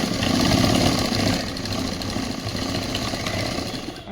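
Electric sewing machine running steadily while stitching a boys' government school uniform shirt, a continuous close mechanical whir that is louder at first and then holds an even drone with no talking.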